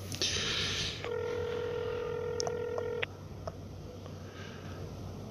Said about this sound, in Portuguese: Eu acho melhor ligar pro doutor antes